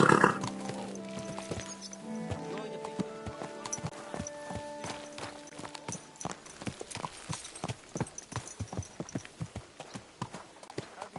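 Horse hooves clip-clop at a steady walking rhythm in a video game, close and clear, after a brief tonal chime at the start.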